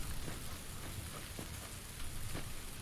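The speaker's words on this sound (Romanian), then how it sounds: "Tati, ce plouă" Steady rain in PUBG at night, a dense hiss of drops on surfaces with occasional sharper taps, constant and fairly close, no voices.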